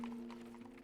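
A carriage horse's hooves clip-clop at an even pace, with several regular strikes over a steady low hum.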